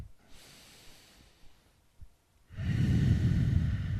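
Slow, deep yoga breathing, a soft drawn inhale followed by a longer, louder airy exhale, close and alone.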